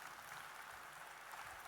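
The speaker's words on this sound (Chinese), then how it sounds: "给他一个掌声先" An audience at a corporate talk in Hong Kong claps together in a soft, even wash of applause that sounds faint and somewhat distant, with no speech over it.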